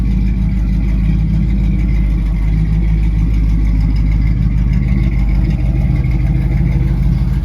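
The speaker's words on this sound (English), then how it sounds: "The idle sound, it's just that classic muscle car sound." A 1973 Oldsmobile Omega, a classic GM X-body muscle car, idling with a steady deep low rumble that stays even and close throughout, no speech.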